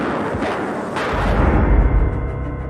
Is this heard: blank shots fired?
yes